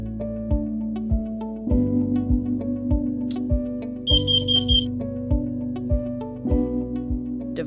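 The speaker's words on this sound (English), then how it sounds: "The alarm will beep" Over a steady rhythmic musical backing, a brief burst of four or five rapid high-pitched electronic beeps from a smoke alarm sounds clearly, like an alarm chirping.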